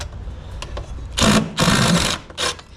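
A power driver pops screws out of a Wall Enterprises RBG712 blade sharpener, with its motor whirring in three short bursts close by after a quieter start.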